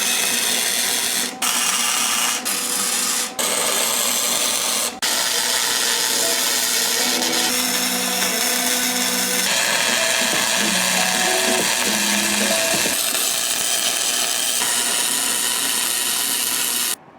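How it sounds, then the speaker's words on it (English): Welded steel trailing arm braces for a BMW 2002 rear subframe being ground to fit, a loud, continuous, harsh power-tool whine with a few sharp clicks early on and shifts in pitch as the tool bites. "gonna have to grind them to fit"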